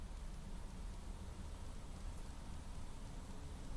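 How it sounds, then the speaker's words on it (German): Steady rain patters outside in the survival game Planet Crafter, a soft, even hiss of drops that runs unbroken and fairly faint, with no talk over it. "Ich glaube, draußen regnet es."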